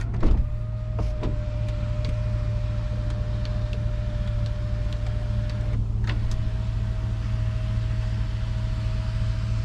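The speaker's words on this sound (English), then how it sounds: "up here we have the controls for the little window in the back" The power rear sliding window of a 2015 GMC Sierra pickup runs as a steady faint electric motor whine, with clicks near the start and a brief break around the middle.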